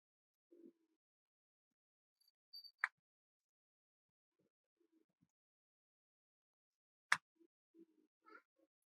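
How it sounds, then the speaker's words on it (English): A pet cat meows a few times nearby during quiet indoor work, short separate calls with long silent gaps between them, faint and alone with no talk. "my cat is next to me in the background meowing for you guys"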